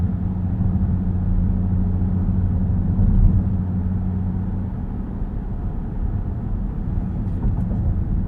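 A 2023 Dodge Durango SRT Hellcat idling in eco mode, a steady low engine rumble with a brief swell near the middle, heard from inside the cabin with no talking.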